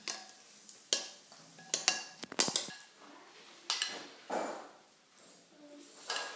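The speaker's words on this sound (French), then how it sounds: "il me reste à mélanger, bien mélanger les épices avec l'eau" A spoon clinks and scrapes against a bowl while mixing spices into about 200 ml of water for a chicken and vegetable tajine broth. The close, sharp taps come in irregular bursts with quieter stirring between.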